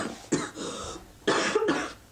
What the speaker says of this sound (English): Got a bit of a cough and a cold, I'm afraid.